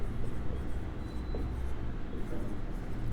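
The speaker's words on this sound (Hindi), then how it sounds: "ट्रोफोब्लास्ट मैं यहाँ पे लिखता हूँ" Marker or chalk writing on a board during a biology lesson, a steady scratchy stroke texture running continuously beneath a low room hum, close and moderately loud with no talk heard.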